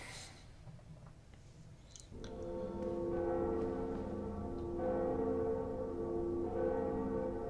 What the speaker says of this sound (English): And that's the second bell, and what's gonna happen?